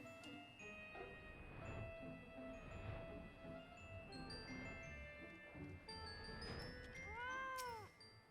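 A fat cat mount in Final Fantasy XIV meows repeatedly over ambient game music and sound effects, with a rising chime-like flourish near the end.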